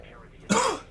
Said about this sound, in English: I still have like a little bit of a cough